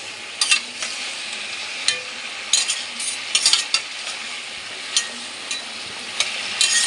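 Mixed vegetable curry frying in a pan, a soft continuous sizzle broken by repeated sharp scrapes and clinks of a spoon stirring against the metal, close and fairly quiet.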